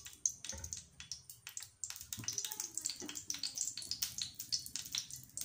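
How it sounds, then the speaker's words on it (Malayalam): Oil pours and sizzles faintly into a heated pan as the base for a Kerala-style chickpea curry, a soft, irregular wet crackling with small clinks of the pan and utensil, fairly close and alone. "അതിലേക്ക് ഞാൻ എണ്ണ ഒഴിച്ച് കൊടുക്കാൻ പോവുകയാണ്"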